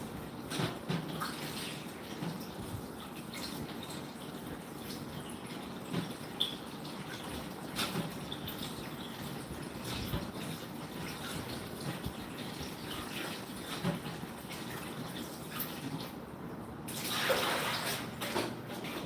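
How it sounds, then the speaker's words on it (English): Kitchen tap water runs steadily while something is rinsed under it, a faint continuous splash with small variations and a louder gush near the end, no talk. "I'm just giving this a quick rinse."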